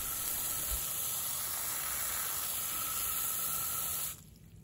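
A garden hose on a high-power setting sprays rescued orchids, a steady, loud broadband hiss of rushing water that holds unbroken for about four seconds and then cuts off abruptly.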